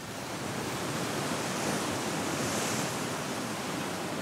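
Strong wind by the sea off the coast of Mozambique during a fishing trip, a steady, loud roar of broadband noise buffeting the microphone, mixed with surf, with no pauses and no voices.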